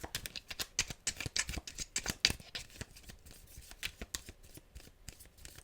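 Tarot cards are shuffled by hand close to the mic in quick, rapid riffles and soft slaps, a busy crackling patter that eases off slightly toward the end.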